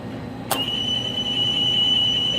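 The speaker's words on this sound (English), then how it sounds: "And you can hear that our alarm has gone off." A sharp click, then a steady high-pitched electronic beep from a Thermco MB71 tube furnace alarm starts and continues without pause over a low background hum, after a power outage.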